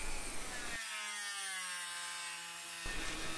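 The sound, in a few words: Dremel with cutting disc cutting out a car tail light reflector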